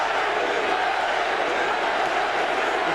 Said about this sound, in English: The crowd chanting Larry Holmes' name